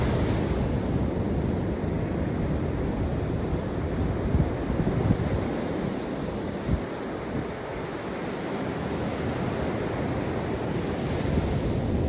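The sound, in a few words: ocean waves on beach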